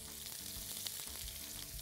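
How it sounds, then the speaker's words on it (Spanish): Sliced onion cut in thin julienne strips sizzles and crackles steadily in a hot frying pan, a continuous close frying hiss with no talk. "Y echamos cebolla"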